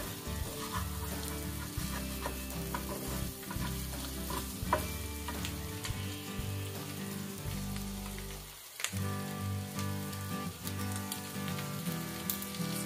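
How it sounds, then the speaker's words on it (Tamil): Snails sautéing in garlic butter sauce in a pan, a continuous close sizzle with repeated clattering stirs and scrapes of a utensil, brief pause near the end before stirring resumes. "ஸ்னெயில் நல்லா வதங்கிடுச்சு."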